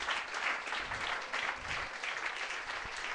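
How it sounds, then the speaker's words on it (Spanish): A church congregation claps together at a Sunday school service, a dense, fairly close burst of applause holding steady for a few seconds. "Dele un aplauso al Señor para los que se estén durmiendo."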